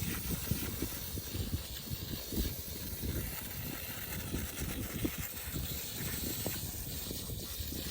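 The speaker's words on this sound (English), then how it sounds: "all the dirt and dust that was in the coil is getting pulled out by the pump" Steady hiss and rushing suction from a pump drawing dirt and dust out of a clogged RV air conditioner coil, continuous and fairly close, with no talking.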